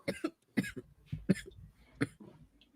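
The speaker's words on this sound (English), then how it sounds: "As she continues to cough" A woman coughs in a series of four sharp, close bursts spaced roughly evenly, with quieter breathy sounds between them.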